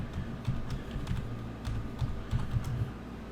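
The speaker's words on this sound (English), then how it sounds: "I'm going to go ahead and type in my super secret password here" Fingers type on a computer keyboard in a quiet room, a quick irregular run of light clicks and taps spread over about three seconds.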